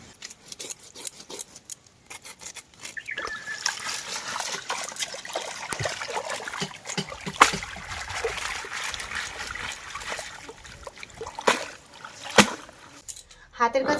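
Cut fish being rinsed by hand in a basin of water, with trickling, splashing and sloshing close by and scattered sharp clinks throughout.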